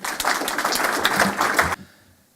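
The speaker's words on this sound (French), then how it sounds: "Sous vos applaudissements" Audience at a Marco Polo gala dinner in a Paris venue, dense sustained clapping from a full room that stops abruptly and fades into quiet.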